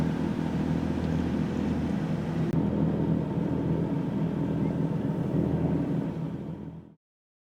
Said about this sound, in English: we had to resort to the engine to get us home